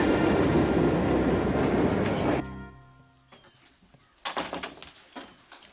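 A train at a station roars loudly with a rumbling rush, then cuts off abruptly into a quieter hum. Scattered clanks and door-like knocks follow.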